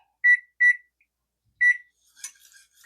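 A kitchen timer being set on a stovetop gives three short, bright electronic beeps, two in quick succession and a third a second later, followed by faint handling clicks.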